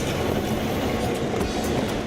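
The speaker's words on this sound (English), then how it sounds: "He and his crew are in a long tunnel when a train comes" A train rumbles through a long tunnel, a loud, dense, continuous roar of wheels on rails with steady clatter, close by and with no voices.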